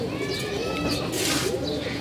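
Pigeons from a newly collected flock coo in low, rolling, repeated calls nearby, with a voice partly underneath.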